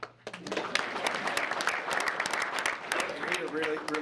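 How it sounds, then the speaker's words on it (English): An audience at a school board meeting claps for a student basketball player, a dense burst of applause starting abruptly and continuing with voices talking over it. "And he really appreciates getting 2 claps."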